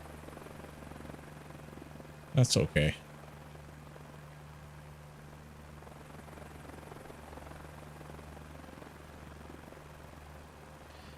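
A helicopter in Microsoft Flight Simulator 2024 gives a steady, even rotor and engine drone throughout, close and moderate in level, broken once early by a short burst of louder clatter.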